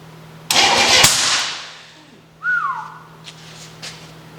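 Monster truck engine starting up with a sharp loud burst that fades, followed by a brief whistling whine and quieter clicks as it settles near the listener.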